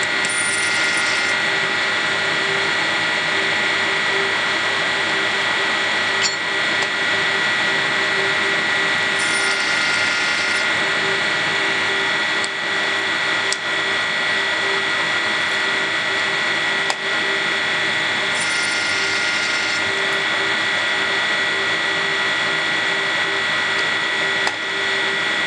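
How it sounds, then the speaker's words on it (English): Deep hole drilling on a Do-All saw gives a continuous loud mechanical grinding with a steady tonal hum, broken by a few brief higher bursts and small clicks. "Drill for a second and stop."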